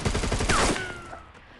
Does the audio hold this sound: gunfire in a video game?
yes